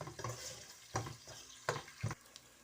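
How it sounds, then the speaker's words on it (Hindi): Garlic sizzles steadily in oil in a pan over high heat, broken by a few sharp clatters of a utensil stirring against the metal. "ये अभी मैं आंच तेज़ करती हूँ, लहसुन मैंने डाल दिया, फ्राई होता है"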